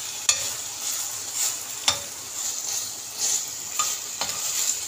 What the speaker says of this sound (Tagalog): ginisa ko na yan sa kamatis, sibuyas, kabawang